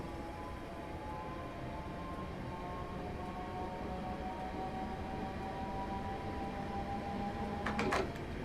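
A Class 321 electric train coasts with the power off in Train Simulator 2017, giving a steady rumbling roll with faint sustained tonal whines, and a brief clattering burst near the end.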